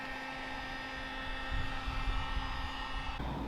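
A heat gun blows with a steady whooshing hum while warming window tint film on quarter glass, its airflow fluttering louder midway before dropping off near the end.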